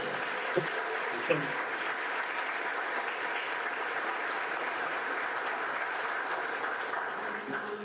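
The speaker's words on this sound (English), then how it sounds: "can you all join me in a big round of applause for Tammy and Charles?" Audience applause at a Scouting America Distinguished Citizens award ceremony, a long, even patter of many hands clapping in a hall, with a couple of sharper claps early on.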